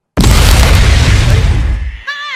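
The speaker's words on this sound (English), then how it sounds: "There was an explosion." A loud, close explosion bursts into a broad roaring blast that decays over about two seconds, with a brief voice at the end.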